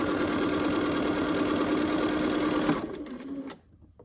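A sewing machine stitches Ohio Star quilt block pieces with a fast, even mechanical chatter for nearly three seconds, then slows with a few soft clicks before stopping.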